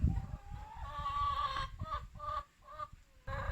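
Hens in a backyard coop cluck close by in a run of short, throaty calls, with a few brief pauses between bursts and no talking.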